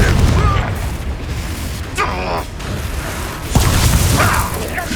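A Confringo explosion spell cast in the video game Hogwarts Legacy, heard as heavy booming blasts and bursts over a dense, continuous wash of combat noise, with voices mixed in.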